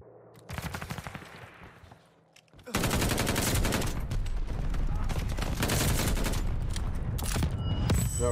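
Full-auto M1916 marksman rifle fire in Call of Duty: Vanguard, a short rapid burst, a brief pause, then a long loud continuous stream of shots.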